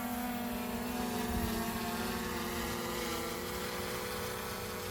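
A DJI Air 2S drone flies at low altitude, producing a steady, continuous propeller whine with a sustained tonal hum that holds even in loudness throughout, with no talking.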